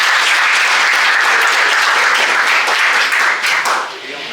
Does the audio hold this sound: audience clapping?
yes